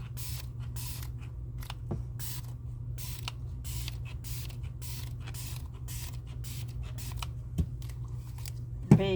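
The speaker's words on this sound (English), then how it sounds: "I am going to spray these with alcohol" Repeated short bursts of alcohol spray misting onto craft molds, about a dozen quick hisses in a steady rhythm over a low hum, close and moderately loud, with a few faint clicks.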